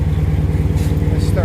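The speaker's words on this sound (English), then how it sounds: "Started a Jeep also." A Jeep engine idling after start-up, a steady low rhythmic rumble that holds constant and close throughout, with a faint higher noise near the end.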